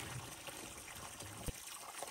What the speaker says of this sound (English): I went to my favorite spring for my drinking water.